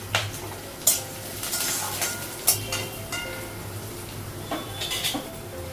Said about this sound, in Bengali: পেঁয়াজ দিয়েছি একটু ভেজে নিব পেঁয়াজটা